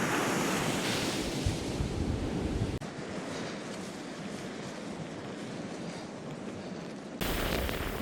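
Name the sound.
waves crashing on the beach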